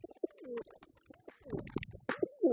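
Pet pigeons coo nearby in a loose series of short, throaty warbling calls separated by brief gaps, some overlapping, with soft scuffling in between.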